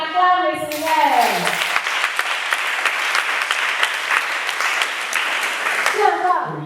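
A church congregation bursts into sustained, dense applause and clapping that fills the room for several seconds, with a voice briefly heard at the start and end.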